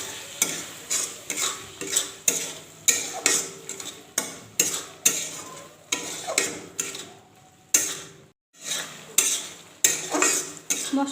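A spoon stirs curry spices and salt in a pan for a chicken potato curry, close rhythmic scrapes and clinks repeating about twice a second over a light sizzle, with one short pause.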